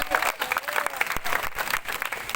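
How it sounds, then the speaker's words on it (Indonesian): A gathered audience breaks into brief, lively applause, a close, uneven burst of clapping that lasts only a couple of seconds. "Yuk, tepuk tangan bagi anak kita."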